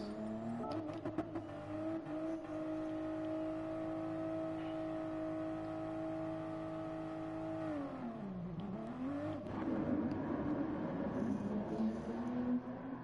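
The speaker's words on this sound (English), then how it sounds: "this is the start of the race. Standing start, 10 laps." Race cars in Gran Turismo Sport, GR Supra GT Cup machines on sports hard tyres, rev together on the grid for a standing start, a loud steady engine drone that dips then climbs as they launch and accelerate away, with no talk.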